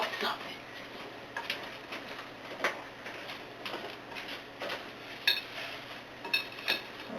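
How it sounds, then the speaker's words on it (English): Hand stirring of cake batter with a cherry mixture, irregular soft clicks and scrapes of a utensil against a bowl, faint and close, with a voice speaking quietly alongside. "I think I just like the process of stirring it."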